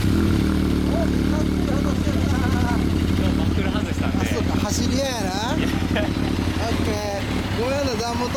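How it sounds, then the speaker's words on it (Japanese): A Kawasaki ZZR1100 D9 motorcycle engine with a Striker aftermarket exhaust idles with a throaty rumble and revs a few times, while people talk over it. "ストライカーエンジン音聞かせてくれる"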